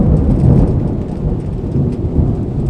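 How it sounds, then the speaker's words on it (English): Steady heavy rain with rumbling thunder, loud and continuous throughout with no voices. "Anyways, it's raining."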